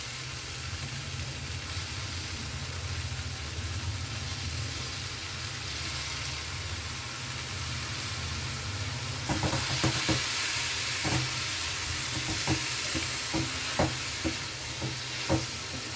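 Red amaranth greens and fish sautéing in a pan: a continuous moderate sizzle, joined midway by repeated scraping and clacking strokes of a spatula stirring the greens, with no talk.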